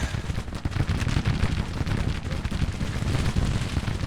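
Musket volleys from multiple infantry units in Grand Tactician: The Civil War, Battle of Beverley 1861, a dense continuous rattle of overlapping shots with a rumbling low end, steady and loud throughout.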